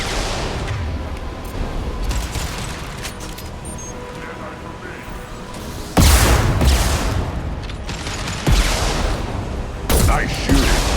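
Gunfire in a Mass Effect 2 firefight, continuous dense combat noise with louder bursts of shots and booms at intervals, voices talking over parts of the fight.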